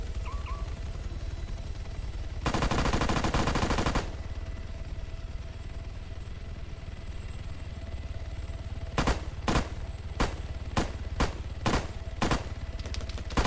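Video-game gunfire: a dense two-second automatic burst, a long pause, then a rapid string of single sharp shots near the end, loud and close against a steady background hum.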